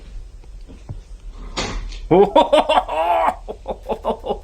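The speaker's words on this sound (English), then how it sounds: "this door has been like opening and closing" A door creaks and knocks shut in a dark, supposedly haunted house, followed by startled voices and exclaiming people reacting nearby.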